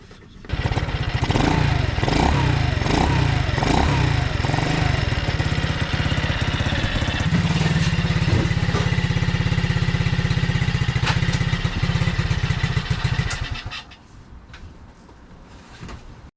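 A Honda C90 motorcycle engine runs close and loud in a steady drone for about thirteen seconds, with brief revving early on, then drops to a quieter idle near the end.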